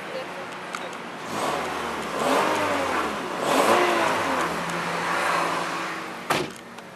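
A 2001 Honda Civic VTi Oriel 1.6 engine revs up and down several times, rising and falling in pitch, with a short sharp noise near the end.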